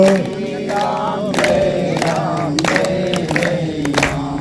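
A crowd at a Hindu devotional kirtan gathering sings a chant together in steady unison, with scattered hand claps keeping time beneath the voices.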